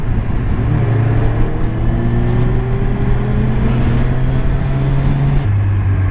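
A 2017 Kawasaki Z1000 motorcycle engine hums steadily at cruising speed while riding, a loud close drone that shifts pitch a couple of times with wind rush behind it.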